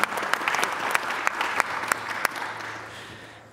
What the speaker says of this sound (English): Round of applause for the subject knowledge analysis.